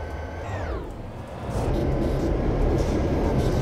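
Train cars roll in a train simulator game, a low steady rumble that grows heavier after a brief whistle-like tone glides downward, continuing alone without talk.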